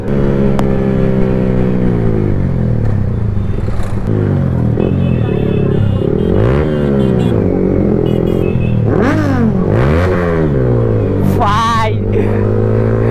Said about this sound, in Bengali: R এক্সজস্টের sound bike খাতারনাক